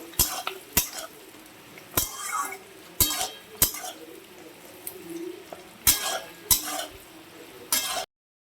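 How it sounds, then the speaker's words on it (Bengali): Chopped garlic and ginger frying in a pan for chilli soya make a soft sizzle, broken by separate sharp clinks and scrapes of a utensil against the pan. "এবার দিয়ে দিচ্ছি রসুন কুচিগুলো আর সঙ্গে আদা কুচিগুলোও দিয়ে দিচ্ছি নাড়িয়ে টাড়িয়ে কিছুক্ষণ ভাজবো"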